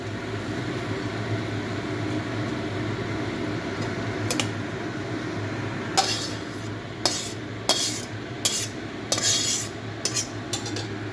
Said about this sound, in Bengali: এবারে প্রেসারে দিয়ে বসি। প্রেসারে দেওয়া হচ্ছে।